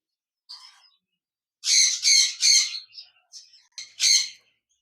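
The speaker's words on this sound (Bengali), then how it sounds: "এখানে দেখতে পাচ্ছেন এক জোড়া কোকাটেল পাখি রয়েছে" A pair of cockatiels, one a red-eyed lutino hen, give bright chirping calls in a few close bursts: a short call, then three loud rapid squawks, then scattered softer chirps and one more loud call.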